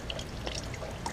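Coolant drains from a 2014 Yamaha R6 motorcycle, a faint, steady trickling pour with small drips splashing into a container, continuous and close.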